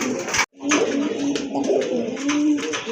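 Blue satin pigeons coo in a soft, repeated, throaty rhythm close by. A brief gap breaks the calls near the start, then the cooing carries on steadily.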